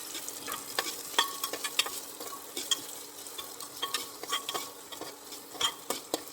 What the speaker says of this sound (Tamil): சில வெட்டி வச்ச வெங்காயத்தை நம்ம அதை போட்டலாம்.